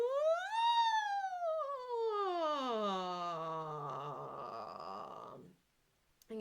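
Voices of grade 6-8 music students imitating a siren as a vocal warm-up, a single smooth rising then long falling glide on an open vowel, fading out before a brief trailing sound.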